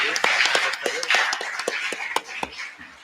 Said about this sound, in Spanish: agradecemos a los ponentes con un fuerte aplauso